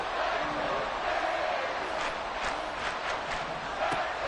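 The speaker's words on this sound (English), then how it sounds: "This crowd doing all they can." American football stadium crowd at a Dolphins game roaring continuously near the goal line, a loud steady wall of cheering with rhythmic surges and a commentator talking over it.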